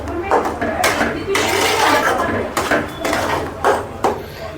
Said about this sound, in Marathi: थोडंसं आपण मसाला चांगला भाजून घेऊया आता